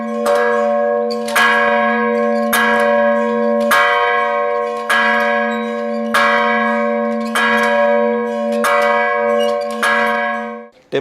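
A church or temple bell rings out in a steady series of about nine loud, evenly spaced strikes, each with a long sustained metallic ring that overlaps into the next, with no talking.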